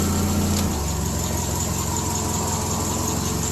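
A Triumph Spitfire engine idles steadily after a starter replacement, a loud, continuous mid-pitched rumble with an even, slightly uneven-beating pulse and no voices.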